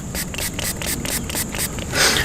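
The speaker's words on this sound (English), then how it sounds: "You spray it down right good." Deer scent misted from a spray bottle around a hunting blind in warm early-season weather, several quick hissing squirts in a steady series, close and fairly loud, with a stronger burst at the end.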